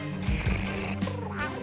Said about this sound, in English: Kind of sounds like a cat purring.